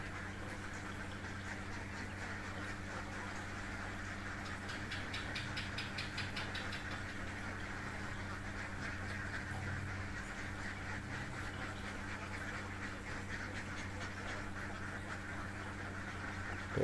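A crowd of laying ducks quacks continuously in a dry pen, a dense, faint chorus over a steady mechanical hum.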